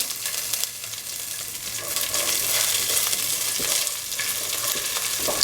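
Raisins sauté in a hot pan for semolina kheer, giving a steady close sizzle of frying with scraping stir noises running throughout.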